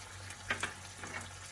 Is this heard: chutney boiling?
yes